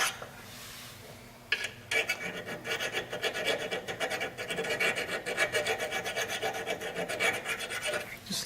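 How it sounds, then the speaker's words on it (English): Hand file rasping a burr off a metal edge on a 2JZ engine part, a run of close, rhythmic scraping strokes after a short quieter start. "just lightly take the file and get the edge off of that, or the burr"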